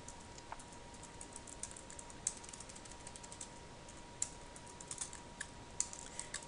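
Quiet typing on a computer keyboard, a scattered run of soft key clicks with a few sharper taps, no voices, a steady hum underneath.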